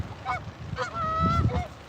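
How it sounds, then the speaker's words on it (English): Canada geese honk as they fly by over a river in early spring, several nasal calls in a loose sequence, moderately close over a low outdoor rumble. "Watching Canadian geese go by and ducks and fishing."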